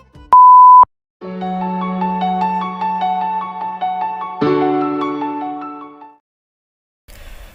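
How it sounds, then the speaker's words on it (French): An answering machine gives a single steady electronic beep briefly, then a gentle melodic tune plays for several seconds before stopping. "Veuillez laisser un message après le bip sonore."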